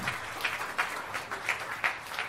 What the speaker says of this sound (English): let's have a huge round of applause as well